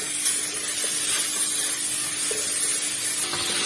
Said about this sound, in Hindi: ये जो हमने मसाले रखे हुए थे ये ऐड कर देंगे और इसको अच्छी तरह से हम भून लेंगे